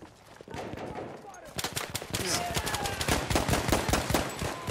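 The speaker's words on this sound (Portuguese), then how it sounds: "Quem que tá atirando em você aí, irmão?" Rapid gunfire in the World War I shooter Battlefield 1, sharp repeated bursts growing denser and louder after the first second, with a voice talking over the shooting.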